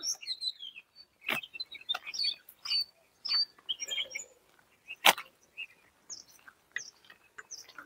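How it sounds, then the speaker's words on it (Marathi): Birds chirp and tweet in short, bright bursts throughout, several calls overlapping at moderate distance, with one sharp louder note partway through. "पक्ष्यांचा किलबिलाट ऐका"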